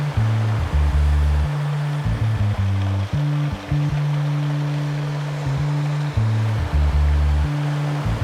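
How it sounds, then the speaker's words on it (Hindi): Waves on the Sea of Galilee before a storm: a loud, constant rushing surf noise under a deep droning tone that shifts in pitch, with no voices. "यकीनन ये वो ऊंची लहरें नहीं हैं जिनके हम मुंतजिर हैं"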